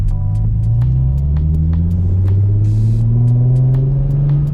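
A 2007 Nissan 350Z HR engine and exhaust pull steadily while driving, a loud low drone rising in pitch through a smooth acceleration, with no talking.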